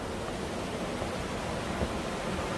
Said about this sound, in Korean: 출발한 지 1시간 반 만에 설악폭포를 지나가고 있습니다.